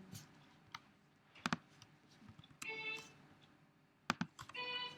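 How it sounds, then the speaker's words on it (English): Clicks and taps of computer keyboard typing come in short bursts while music notes are entered into notation software, mixed with soft electronic note tones, with quiet stretches in between. "And I'm using the keyboard to type the notes in as well."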